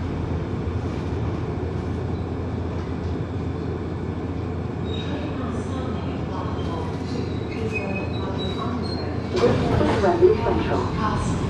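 A London Underground Bakerloo Line train, 1972 stock, rumbles at a station, steady low rolling noise with a brief squeal and clatter near the end.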